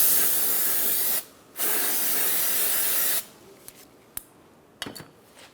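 Brake cleaner sprays onto the front brake parts of a 2014-2019 Kia Soul in two hissing bursts, one long then a second, followed by light clicks and handling noises.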